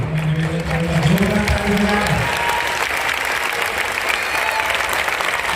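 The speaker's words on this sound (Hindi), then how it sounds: "जोरदार ताली बजाइए और जोर से।" Audience at a Sanatan sant sansad gathering applauding loudly and steadily, with a sustained voice or tone heard under the clapping at the start.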